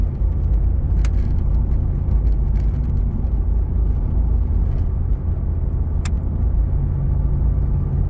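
A 1985 Chevrolet Camaro IROC-Z with a 700R4 automatic transmission drives along, its steady engine and road rumble filling the cabin at a constant level, with a couple of brief sharp clicks or rattles over the drone.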